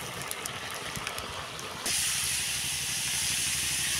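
Rice pot boiling on a home stove, a steady bubbling hiss of steam that suddenly grows louder and fuller partway through, continuing as a strong rushing sound.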